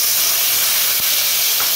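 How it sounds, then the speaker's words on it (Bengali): Potatoes dropped into oil with tempered dried chilli, cumin and whole spices fry in a pan, giving a loud, even, continuous hissing sizzle up close with a small thump midway. "এরপরে আমি আলু দিলাম, আলুগুলোকে ভেজে নেব"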